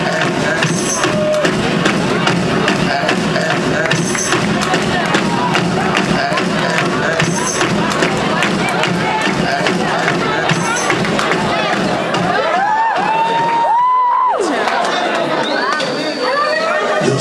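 An audience greets the Cubaniando dance band at a stage show with dense, steady applause and crowd noise that sustains throughout, mixed with chatter and occasional cheers.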